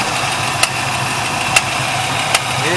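A 1973 Trans Am with a 455 engine idles steadily nearby with a faint rhythmic tick or tap recurring about once a second, and the air cleaner is off.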